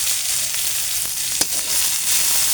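Cooking oil crackles in a hot pan on a home stove, a dense, steady hiss with one sharp pop partway through, close and without voices.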